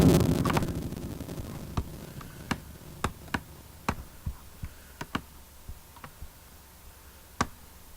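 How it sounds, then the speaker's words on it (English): Programmed tom drums from a dubstep remix strike as sharp, isolated hits. They come at irregular, fairly sparse intervals after an opening burst and stand alone with no voices. "We got these toms."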